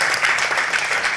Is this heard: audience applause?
yes